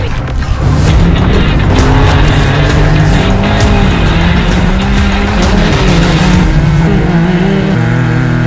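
An off-road vehicle on a stunt driving run at a Trail Hero trail event roars loudly and continuously close by, its engine revving and shifting in pitch under heavy throttle, with no speech.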